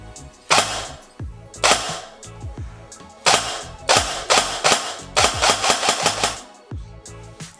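ARES Otto Repa SOC SLR airsoft AEG sniper dry firing on an 11.1 V battery with no magazine, a series of loud, close mechanical gearbox cycles, first single shots, then rapid clusters of snappy cycling.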